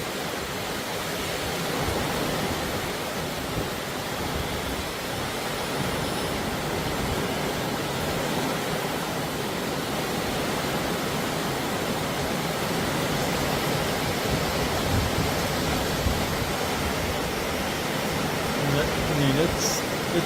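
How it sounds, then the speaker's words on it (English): Continuous rush of rain and wind in a thunderstorm, a dense, even hiss lasting throughout with a few faint sounds near the end. "It's raining."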